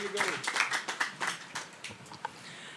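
An audience at the Bali Tech Summit claps to welcome the co-presidents of La French Tech Indonesia, with sharp overlapping hand claps that are fairly close, then thin out and fade after about two seconds.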